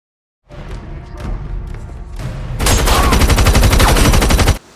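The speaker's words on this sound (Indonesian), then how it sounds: "H kemudian melanjutkan baku tembaknya dan berhasil melumpuhkan beberapa perampok yang ada." Dense, rapid gunfire from a film shootout with robbers: sparse shots and thumps at first, then a loud sustained burst of automatic fire close up, with no talk.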